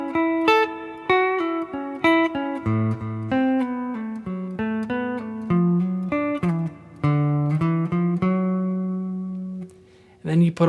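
Two measures of a 1977 guitar solo, a run of clean, separately picked notes with sustained tones and brief pauses, close and unaccompanied.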